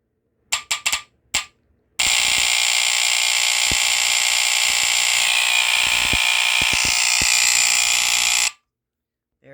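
A vintage FireX FX1014 smoke detector with a Kobishi CLB-26 vibratory horn blares a loud, shrill continuous alarm for about six seconds, preceded by several short test chirps, then cuts off abruptly.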